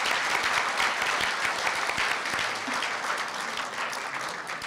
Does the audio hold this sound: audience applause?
yes